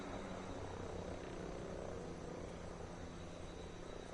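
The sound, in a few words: helicopter passing overhead in Ghost Recon Breakpoint video game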